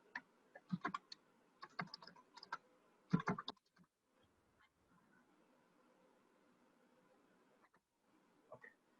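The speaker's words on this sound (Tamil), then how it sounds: "நான் ஒரு டெக்ஸ்டும் டைப் பண்ணிக்கிறேன்." Text is typed on a computer keyboard in quick bursts of close keystrokes over the first few seconds, then a long quiet stretch, and a brief final flurry of keys at the end.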